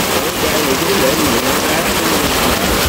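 Heavy early-season rain in Phụng Hiệp, Hậu Giang, a loud continuous wash of falling water with a faint voice murmuring beneath it.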